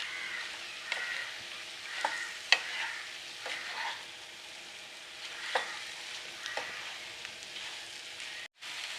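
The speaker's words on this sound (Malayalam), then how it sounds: "ഇനി ഇതിലേക്ക് നമ്മുടെ വഴുതനങ്ങ ചേർത്ത് കൊടുക്കാം. ഇത് നല്ലപോലെ ഒന്ന് ഇളക്കി കൊടുക്കണം." Eggplant being stirred into onion masala in a frying pan for a Kerala-style vazhuthananga mezhukkupuratti, with a steady soft sizzle and scattered scraping clicks of the spoon against the pan.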